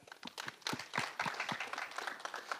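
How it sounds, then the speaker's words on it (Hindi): A short burst of scattered hand clapping from a small group at a film trailer launch, uneven and a little distant, lasting only a couple of seconds. "तालियां ज़्यादा हो गई ना, है ना?"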